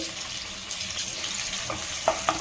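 Onions frying in hot oil in a pan for a South Indian vegetarian dish, a steady close sizzle with small crackles and light clinks, no talk.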